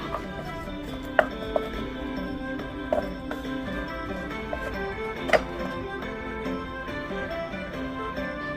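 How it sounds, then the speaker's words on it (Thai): Irregular knife chops on a cutting board as saba fish is cut, a few sharp distinct hits spaced apart over a steady low kitchen background hum. "เราก็จะหั่นมาหั่นเนื้อปลาสบะ"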